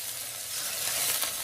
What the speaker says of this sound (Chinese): 油热后再把切好的蒜末全部加进来，炒一下，炒出蒜末的香味儿